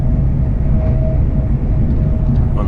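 Inside a moving train on the way to Edinburgh, a loud, steady low rumble of wheels and carriage noise runs without a break, with a faint whine on top and nobody speaking.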